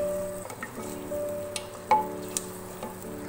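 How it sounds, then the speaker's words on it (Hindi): Mutton frying on high flame with ginger garlic paste, a steady sizzle under a low hum, broken by several sharp spoon clinks and stirring scrapes against the pan, no voices. "लहसुन अदरक का पेस्ट डालने के बाद इसको 1 मिनट के लिए हाई फ्लेम पे भूनेंगे।"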